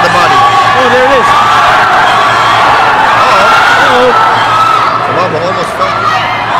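A boxing crowd roars and whoops at Danrick Sumabong versus Jonathan Francisco, a loud, dense wall of cheering and shouting that holds steady for several seconds, with excited voices rising over the din.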